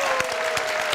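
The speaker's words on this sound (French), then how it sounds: "que nous allons applaudir bien fort, s'il vous plaît" Studio audience applause on a TV talk show as a guest is welcomed, a brief steady burst of clapping with a faint tone running beneath.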